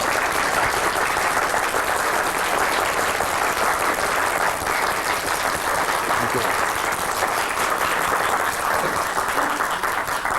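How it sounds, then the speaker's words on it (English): Sustained applause from a concert audience after a musical piece, a dense, even roar of many hands clapping that holds at full strength without letting up. "I would like to thank all of you for your attendance, for your attention, and for your very kind applause"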